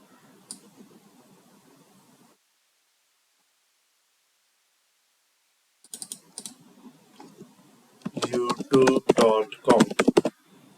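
Rapid clicks of fingers typing on a computer keyboard, near and fairly loud, bursting in short runs toward the end after a quiet stretch, with faint earlier clatter.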